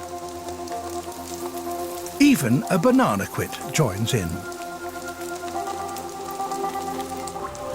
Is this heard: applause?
no